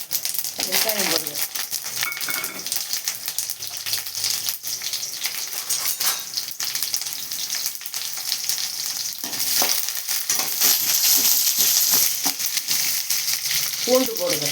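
Chopped onion sizzles in hot oil for an egg curry, crackling steadily close to the pan. Scraping stir strokes and light clinks come through now and then, with a brief voice over the sizzle.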